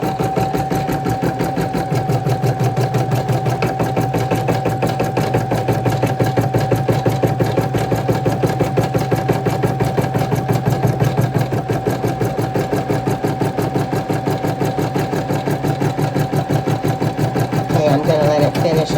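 An embroidery machine stitches a crochet hook roll in the hoop, a steady, fast, even needle rhythm with a constant motor whine that runs without pause for the whole stretch.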